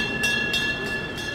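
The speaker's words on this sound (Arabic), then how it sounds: "شوف هذا القطار مال السواح،" A tourist train passes in a Romanian town, a steady low rumble with faint rhythmic clicking bursts, moderately distant and heard alone without talk.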